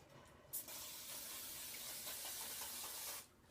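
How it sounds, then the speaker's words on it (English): A steady coconut oil cooking spray hisses onto a baking sheet for about three seconds after a short click, close and fairly soft, with no talking. "you're going to spray a cooking sheet with some coconut oil spray"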